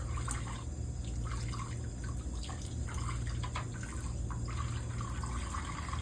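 Running water from a tap splashing steadily as a large scrub brush is rinsed off, with light drips and a constant low hum in the background; no one talks.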